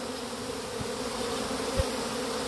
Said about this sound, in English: It's actually called swarming.